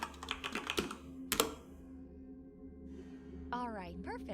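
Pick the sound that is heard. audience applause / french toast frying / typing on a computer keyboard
typing on a computer keyboard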